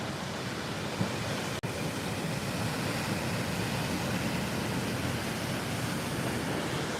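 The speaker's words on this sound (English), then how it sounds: "listening to the ocean crash across the rocks there" Ocean waves crash on the rocks at San Bartolo Playa, Lima, Peru, a dense, continuous roar of surf with no gaps, close and steady throughout, with a brief click partway through.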